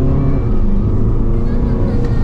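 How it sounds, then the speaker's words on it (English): Diesel engine of a 2021 Mercedes-Benz A-Class saloon pulling hard under acceleration, a steady, loud low-pitched drone from inside the car that holds throughout with no break. "It is quick and the engine, this is the diesel, is very refined."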